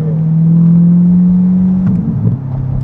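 A 2021 Corvette Stingray C8 engine drones loud and close, holding a steady tone before a brief rev and settling, with no talk.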